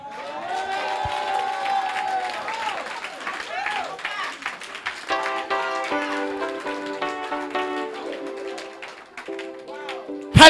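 A church congregation cheering and applauding during an evangelistic sermon, a dense wash of clapping, shouts and overlapping voices, with sustained tonal voices or music emerging toward the end.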